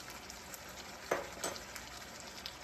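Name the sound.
herb crusted chicken frying in a pan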